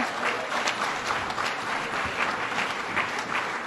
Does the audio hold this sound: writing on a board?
no